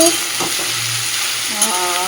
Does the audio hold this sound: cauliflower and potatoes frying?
yes